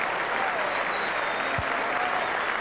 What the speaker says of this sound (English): But the Oval crowd will now rise to their feet and salute a wonderful batsman.